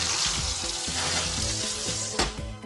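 Steak frying in a pan with garlic and thyme while being basted, a loud close sizzle with rhythmic spoon-basting splashes recurring every fraction of a second.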